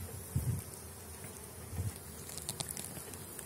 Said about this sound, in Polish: Właśnie widzimy oblot młodej pszczoły.